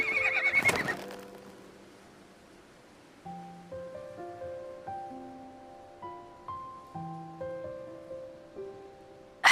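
Horse in the video game Love and Deepspace, ridden side saddle, giving one loud, close neigh at the start, then a soft musical melody plays on its own.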